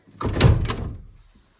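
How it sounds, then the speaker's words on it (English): A door being shut in the conservatory of a 400-year-old English cottage, a single soft thud with a brief rattle that fades within about a second, heard close and alone. "I'm going to shut this door as well and put the conservatory to bed for the night"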